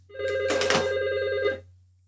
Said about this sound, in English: now it's showing that my office phone is ringing, 4001